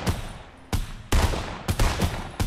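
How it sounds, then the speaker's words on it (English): Enemy gunfire in Fortnite on the original map: several sharp separate shots, some close together in pairs, loud and punchy with short gaps between them and no talk. "Oh my, he's shooting."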